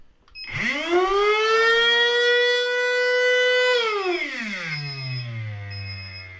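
A brushless motor spinning a flywheel dyno up to 30,000 RPM gives a loud rising whine that sweeps up quickly, holds a steady high pitch for a few seconds, then falls away as it winds down.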